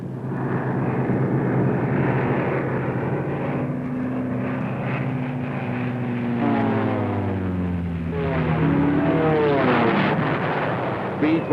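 Propeller aircraft engines drone loudly, with several planes passing and pitch sweeping as they dive in, in archival 1967 Air Force newsreel footage of P-38 Lightning fighters attacking Ploiești oil refineries in Romania.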